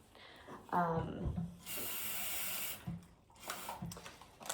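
Water is poured into a jar of overnight oats, and a bright rushing pour runs for about a second close by, followed by short clinks and softer handling sounds.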